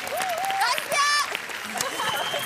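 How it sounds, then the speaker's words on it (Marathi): Audience applause on a Marathi game show, a broad, steady clatter of many hands with bright whistling tones and voices rising through it, sustained and fairly loud throughout. "जोरदार टाळ्या, जोरदार."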